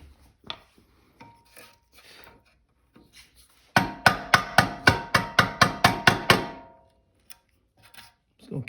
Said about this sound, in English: We'll keep chiseling right here out.